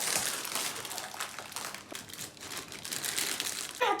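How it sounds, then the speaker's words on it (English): Scissors snip and crinkle open a plastic cake mix packet in a home kitchen, producing a dense, steady crackling rustle up close that runs without pause and ends in a brief louder crunch. "Now let's open our cake mix."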